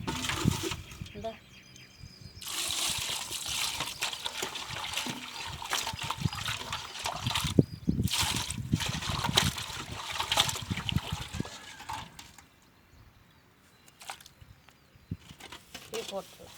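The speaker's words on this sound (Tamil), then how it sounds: "தண்ணியை ஊற்றி கழுவிட்டு அப்படியே எடுத்துடலாம்." Water poured over cleaned fish trickles and splashes in uneven bursts, moderately close, pausing briefly and resuming, with a voice talking intermittently alongside.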